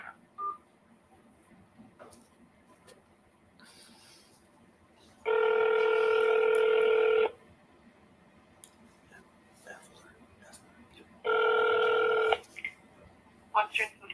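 Two long, steady telephone keypad dialing tones sound on a phone line, each lasting about a second or two and separated by quiet, with faint background murmur.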